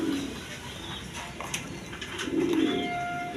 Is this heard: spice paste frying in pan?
no